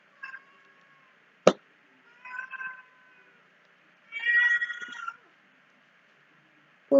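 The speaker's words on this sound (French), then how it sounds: "il y a mon petit chat qui veut des caresses" A small pet cat meowing for attention: several separate close meows with quiet gaps between them, one a sharp short cry and others drawn out, with no talking.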